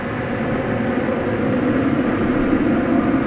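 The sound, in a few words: UPS Boeing 747 taking off at DFW Airport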